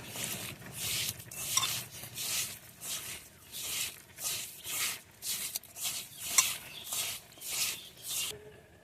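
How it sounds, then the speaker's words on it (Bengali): Small fish being mixed and squeezed by hand with salt, turmeric, cumin and dry chili powder: steady wet rubbing and squishing strokes, about twelve rhythmic pulses, close up with no talk. "লবণ হলুদ জিরে গুঁড়া শুকনো মরিচ গুঁড়ো এগুলো এখন ভালোভাবে হাত দিয়ে চটকে মেখে নেব"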